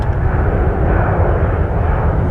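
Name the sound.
RAF military plane flying overhead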